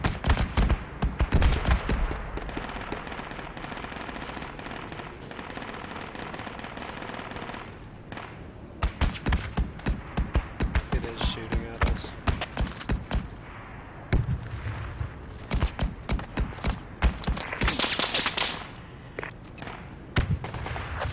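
Friendly gunfire in Project Reality with German infantry in a valley: sustained machine-gun bursts and rapid rifle shots, loud and close in repeated volleys with short pauses between, and no talking.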